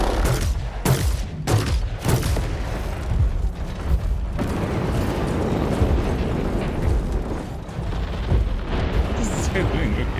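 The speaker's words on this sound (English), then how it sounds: "I'm so tired of incoming missiles" Missile strikes and explosions in the robot combat game War Robots: Frontiers, a dense barrage of booms and blasts rolling continuously for ten seconds, loud and close with a few sharper impacts early on.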